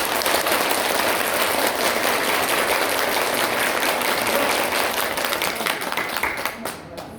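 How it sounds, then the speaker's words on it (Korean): Dense, sustained applause from a seminar audience at a two-day leadership retreat, loud and even for several seconds before thinning out and tapering off near the end. "박수 시작."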